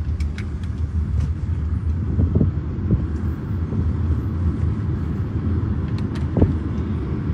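A luxury car cruising along, with a steady low engine and road rumble heard close from inside the cabin, plus faint clicks and one brief knock.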